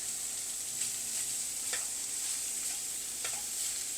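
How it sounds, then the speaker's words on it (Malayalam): Chopped beetroot being stirred in a pan for an Onam beetroot pachadi, a steady soft sizzle with a few faint spoon scrapes, close and continuous with no talking. "അപ്പം ഇനി അതിലേക്ക് നമ്മൾ അരിഞ്ഞു വെച്ചിരിക്കുന്ന ബീട്രൂട്ട് ഇടാം. നമുക്കൊന്ന് നല്ലതായിട്ടൊന്ന് മിക്സ് ചെയ്യണം."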